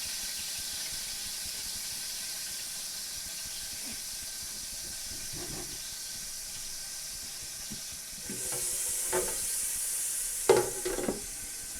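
Food for baked tomato with cream cheese and egg sizzling in a hot pan, a steady close hiss of frying with a few soft clinks and a louder hissing surge near the end.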